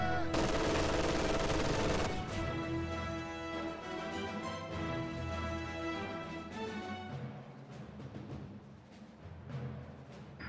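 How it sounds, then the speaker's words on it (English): Machine gun fire in a strategy war game, rapid rattling bursts and scattered shots against a dense battle din, loud at the start and then thinning out. "A machine gun is getting into the house"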